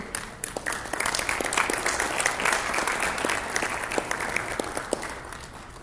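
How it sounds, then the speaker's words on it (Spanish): An audience applauds a speaker named Miguel Ángel at an electoral administration forum, with dense, steady clapping from many hands that holds for several seconds and tapers slightly toward the end. "recibimos también con un caluroso aplauso a Miguel Ángel"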